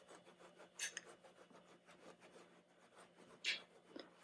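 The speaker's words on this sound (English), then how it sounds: "And then I just really rub it into the fabric." Marker being rubbed hard into fabric on a needle-sculpted Baby Yoda doll face, giving soft, quiet rasping strokes with two brief louder scrubbing bursts, close up with no talking.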